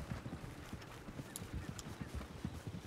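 Runaway horses galloping wild in the video game Red Dead Redemption 2, a dense rapid clatter of hooves with rumbling noise, fairly faint and continuous throughout.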